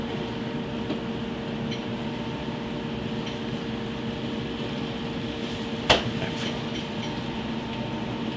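Steady low rumble of a locomotive slowly pulling railroad cars past a turnout, with a constant mechanical hum and one sharp metallic clank partway through.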